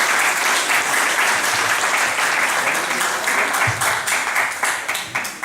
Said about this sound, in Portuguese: E uma salva de palmas para a prefeita.